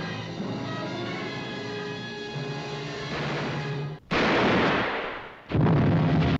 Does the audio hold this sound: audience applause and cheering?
no